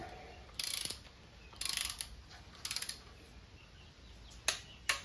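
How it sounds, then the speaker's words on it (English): A torque wrench tightens rocker arm bolts on an LM7 5.3L V8 to 22 foot-pounds, making several short bursts of quick ratcheting clicks at close range, followed by two sharp single clicks. "torque them down 22 foot-pounds"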